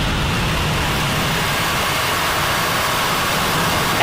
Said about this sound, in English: And we have engine ignition.